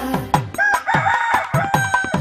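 A rooster crows in a Telugu children's nursery rhyme, its drawn-out call sounding loud and close over a steady, rhythmic musical beat.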